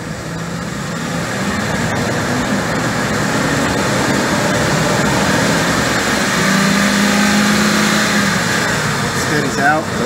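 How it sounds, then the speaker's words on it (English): A car engine runs steadily and rises slightly in pitch as it is revved during an exhaust back pressure test for a clogged catalytic converter, a continuous broadband rumble with no pauses. "I'm going to raise the engine speed up"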